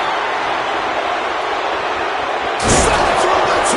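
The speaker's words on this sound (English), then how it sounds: "He put him through the table and nearly through the crowd." A wrestler slammed through a table in the WWE 2K26 game lands with a sudden heavy crash about two-thirds of the way in, cutting through a steady roar of arena crowd noise.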